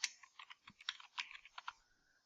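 Typing on a computer keyboard while entering text into a circuit simulation program: a quick, uneven run of about a dozen crisp key clicks, close and fairly quiet, trailing off at the end with no voices.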